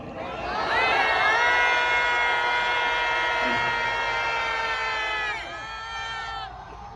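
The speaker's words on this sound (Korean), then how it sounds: "그 비통함과 의로운 분노를 모두 담아서 하늘에 닿도록 함성을" A crowd at a candlelight memorial rally raises a loud, sustained collective shout that holds for several seconds and then eases off.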